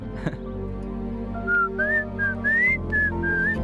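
A person in a film scene whistles a short, lilting tune of several bright notes over a low background hum.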